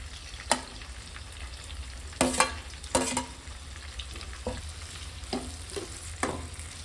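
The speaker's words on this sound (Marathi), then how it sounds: "कांदा आपला फ्राय करून घेऊया। कांदा, टोमॅटो पण त्यात टाकून घेऊया।" Onion and tomato frying in a pan, a steady low sizzle with several sharp stirring scrapes and clatters spaced through it, close and fairly quiet, no voices.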